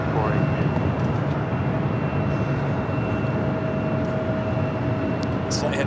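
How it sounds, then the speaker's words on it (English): An Alaska Horizon Embraer E175LR airliner at Los Angeles International Airport at night gives a loud, steady broadband engine roar with a faint whine, continuous for several seconds. "It's an E175LR Alaska Horizon flight 2045."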